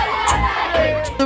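A college crowd at a release-tour concert roars and shouts in a dense, loud wash over 1.3 seconds as the artists run out, with a couple of sharp yells on top.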